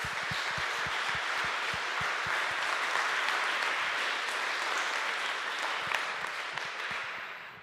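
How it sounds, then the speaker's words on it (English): Sustained audience applause at a TEDx talk event in Halle, dense steady clapping from a large crowd with a few sharper claps standing out, loud and continuous throughout with no talk. "Give him another applause."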